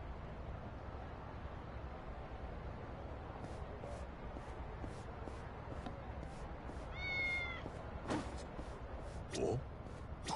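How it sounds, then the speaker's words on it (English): Cat meowing in the video game Lost Judgment, a few short, soft meows rising over a steady, hissing game background. "It's a kitty! Damn, kitty!"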